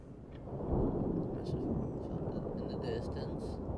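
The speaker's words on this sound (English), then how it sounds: "Sounds more like thunder than a roar" A distant, thunder-like rumble rolls through a scene in the video game Honkai Star Rail, a broad low roar swelling and sustaining, with faint speech fragments over it.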